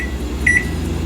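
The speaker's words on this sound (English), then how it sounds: "So you can set your timer" A kitchen timer is set while making popcorn on the stove, giving a short, clear electronic beep over a low steady hum.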